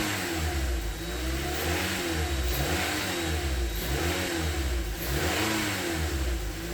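A 2011 Toyota Corolla fitted with a JDM pod filter intake kit revs repeatedly, its engine note climbing and falling several times in a steady rhythm, loud and close with no voices.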